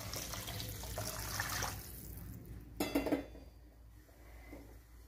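Water runs and splashes into a cooking pot for rava pulao, with light clinks of cookware, a brief louder pour near the end, then quieter kitchen noise.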